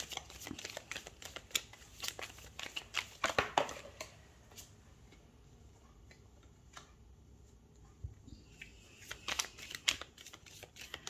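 Tarot cards are drawn and laid out in quick papery flicks and snaps, busy at first, then a quiet pause before more card handling near the end.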